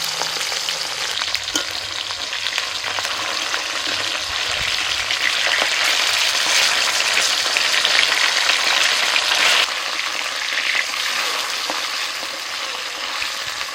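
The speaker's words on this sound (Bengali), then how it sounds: "সব মুড়োগুলো আগে ভেজে নেবো" Bata fish heads fry lightly in hot oil with a loud, steady sizzle and crackle that runs without a break, close by and with no talking.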